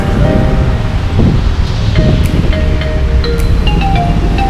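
Rain falls on a street in Delta, Surabaya, a steady, loud wash with low rumble and hiss, as faint tonal traffic sounds drift through the background.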